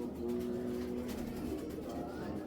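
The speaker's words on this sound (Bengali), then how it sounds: "একজোড়া মাক্সি পিক সাইজের সুপার চ্যাম্পিয়ন, একদম ব্লাডের কবুতর" A pair of racing pigeons at a loft gives low, drawn-out cooing, close and moderately quiet, over a soft background hum.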